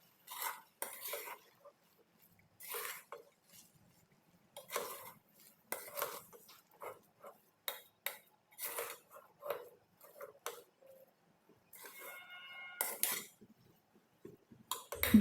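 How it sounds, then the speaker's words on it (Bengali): A spoon scrapes and clatters against a bowl while rice flour is mixed into dough, in short, irregular bursts of stirring separated by quiet gaps. "এবার খুব ভালোভাবে নেড়ে চেড়ে একটা ডো তৈরি করে নিতে হবে।"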